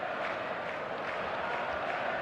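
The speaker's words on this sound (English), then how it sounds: "There's a real expectant buzz in the stadium" Steady, dense murmur of a stadium crowd in a football video game, an even expectant buzz held at a constant level with no standout cheers.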